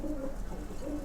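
A pair of domestic flying pigeons coos softly and steadily at close range, low throaty calls repeating without pause and with no voices.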